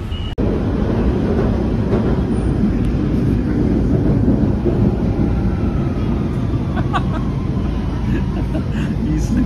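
Steady loud rumble of a London Underground Central line train in motion, with continuous low roar and rattling throughout, plus faint voices in the carriage.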